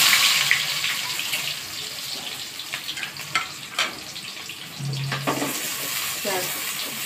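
Chopped onions tipped into hot oil with whole spices such as black peppercorns for a partridge masala, a steady sizzle and stirring throughout with a louder burst of frying around the middle, no talking.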